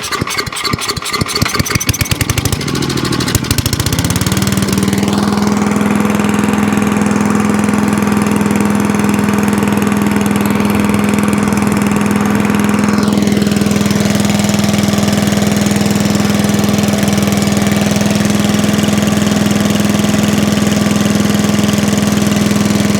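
Lawn mower engine cranked with choke and a bit of throttle, rapid pull-start chugging that catches, revs up, then settles into a loud, steady idle close by, with no talking.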